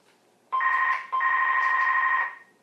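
A mobile phone rings with a steady two-tone electronic trill, sounding in two bursts separated by a brief gap, fairly loud and close against a quiet background with no talking.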